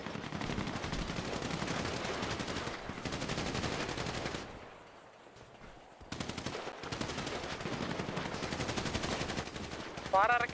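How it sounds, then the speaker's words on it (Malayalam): Sustained bursts of automatic gunfire from a gang war video game match, loud and dense with brief pauses, dropping to a quieter lull midway before heavy shooting resumes. "ആള് വെടിച്ച് നിർത്തുന്നില്ല കേട്ടോ"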